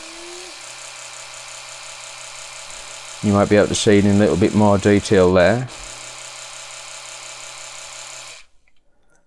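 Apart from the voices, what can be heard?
Oral-B Pro 2 2000N electric toothbrush running, gum care mode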